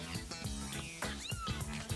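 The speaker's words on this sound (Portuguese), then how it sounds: "Quando eu ouvi uns miadinhos." Small kittens hidden in a cupboard give a series of thin, rising meows among soft bumps and rustles, fairly close.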